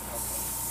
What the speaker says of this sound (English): I'm fixing to spray my paint. Pour it in the airbrush.